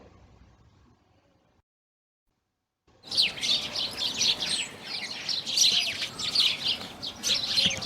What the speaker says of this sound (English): This is a sparrow.